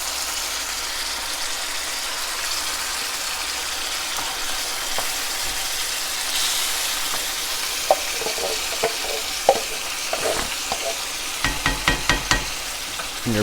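Browning ground meat sizzles steadily in a pan while crushed tomatoes go in for shepherd's pie, followed by a series of sharp spoon scrapes and clacks from stirring.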